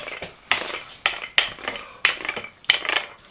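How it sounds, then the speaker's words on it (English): Rolling pin working chilled cookie dough on a floured surface, sticking slightly: four or five evenly spaced knocks and rolling scrapes, close and fairly loud, with no talk. "I'm rolling the dough out to about 1/4 inch thick"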